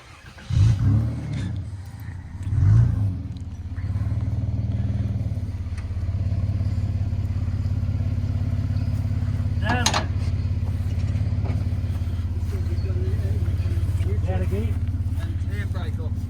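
A 425ci Oldsmobile engine in a car starting with a couple of revs, then settling into a loud, steady low idle with occasional clatter; people talk over it.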